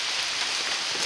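Heavy rain pours down in a dense, even hiss, a steady close wash of drops on surfaces with no pauses and no voices.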